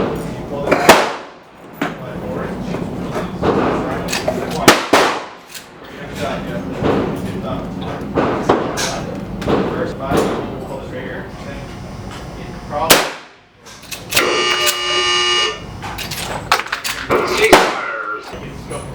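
Gunshots from a handgun firing plus-P gas check powder-coated cast bullets from a roof at 12.5 yards, sharp loud reports spaced every few seconds, with a person talking between them.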